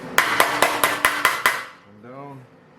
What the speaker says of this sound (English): no problem to just hammer it out